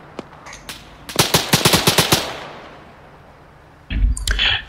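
Video game gunfire: a burst of rapid automatic shots in quick succession, a couple of isolated shots before it, then a second noisy burst after a short lull.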